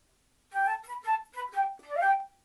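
Solo flute plays the closing phrase of a theme tune: a short run of distinct, separately tongued notes, fairly close and clear, with a slightly longer note at the end and no other sound underneath.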